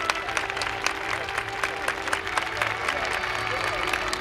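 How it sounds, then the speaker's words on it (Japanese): Sustained applause from a crowd at the Sendai Michinoku YOSAKOI dance festival 2024 awards ceremony on an outdoor stage at the Citizens' Plaza, steady dense clapping throughout with a voice faintly audible underneath. "大きな拍手お願いします"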